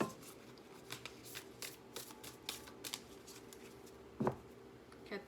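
Oversized tarot cards being shuffled by hand, a run of soft papery riffles and flicks with a louder slap near the end, close and quiet with no talking.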